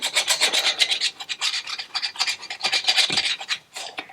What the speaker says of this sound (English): Taking it off. And the gasket goo,